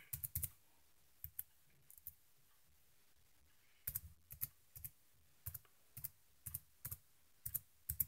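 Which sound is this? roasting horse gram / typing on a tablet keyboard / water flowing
typing on a tablet keyboard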